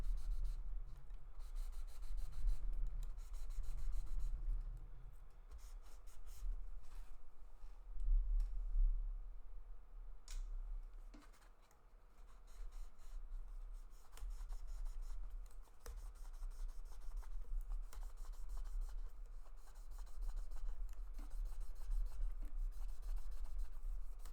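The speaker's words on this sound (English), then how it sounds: "When you get to the finer grits, like the white one, teal one, and the pink one, they're not really going to mess up your fretboard." Fine-grit abrasive pads rubbing along a PRS guitar fretboard with light pressure, a soft, continuous scratchy friction in steady back-and-forth strokes, close and quiet, with a low background hum.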